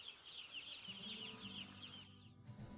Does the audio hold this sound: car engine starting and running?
no